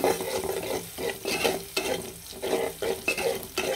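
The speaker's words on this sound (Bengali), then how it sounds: "আর এখানে দিয়ে দিলাম তেলের মধ্যে রসুন আর পেঁয়াজ কুচি কুচি" Chopped onion and garlic fry in hot oil for a restaurant-style chicken vegetable stir-fry, a close sizzle broken by rhythmic stirring scrapes that repeat about every half second.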